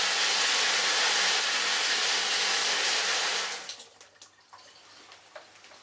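Cold water pours over a bottle in a loud, steady rush for about three and a half seconds, then cuts off, leaving scattered drips and small splashes.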